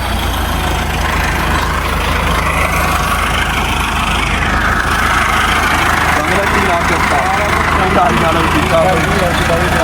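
A Massey Ferguson MF385 tractor engine idling on a farm, a loud, steady low diesel rumble that runs unbroken throughout, with voices talking over it.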